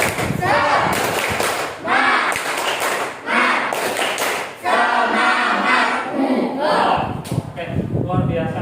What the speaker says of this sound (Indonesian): supaya semangat kita tepuk semangat dulu